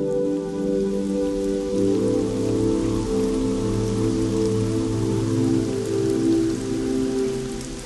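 Steady rain falls in Niamey, Niger, during flooding in the Liberté quarter, a continuous dense patter on surfaces with no voices, constant and close throughout.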